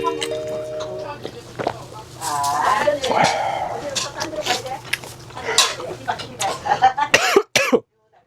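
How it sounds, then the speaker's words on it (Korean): Several coughs scattered among chatter at a tteokbokki restaurant in Mapo, with background clatter and a voice talking between them; the coughs sound close and moderately loud. "오늘 기침 많이 한다."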